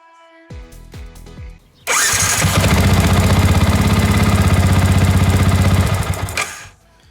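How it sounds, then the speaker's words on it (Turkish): A few clicks and taps come first. Then the radiator cooling fan on a Yamaha MT-125 motorcycle starts up with a loud, close, steady whirring buzz that runs for about four seconds before cutting out abruptly. "Gördüğünüz üzere devir daim fanımız bu şekilde çalışıyor."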